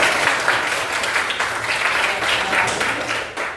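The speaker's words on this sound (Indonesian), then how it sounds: "Masih tepuk tangan." Students applauding in a classroom during an Islamic education lesson, a continuous patter of clapping that holds steady for a few seconds and then starts to thin out at the end.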